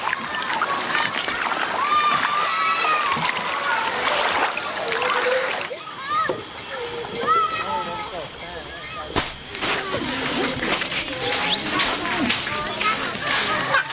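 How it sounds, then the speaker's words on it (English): Kayapo people swimming and splashing in an Amazon river, with steady close water splashes and sloshing throughout, mixed with voices calling and talking. "The Kayapo know it's safe for them to swim here."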